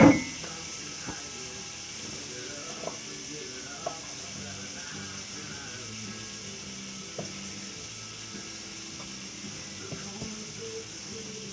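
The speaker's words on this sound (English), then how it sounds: "Now I hear the butter going" Butter and onions sizzle while sautéing in a pan for beef stew, a steady low frying hiss with a few faint clicks, close and moderately quiet under occasional talk.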